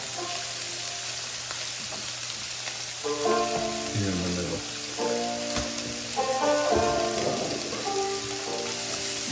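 Onions and garlic sizzle steadily as they go into a hot pan beside nearly cooked meat, a constant frying hiss under a voice speaking now and then.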